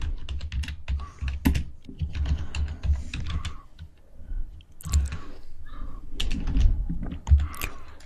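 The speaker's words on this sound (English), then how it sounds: "So I'm going to type in" Typing on a computer keyboard, a close run of quick, uneven key clicks in bursts with short pauses, fairly loud throughout.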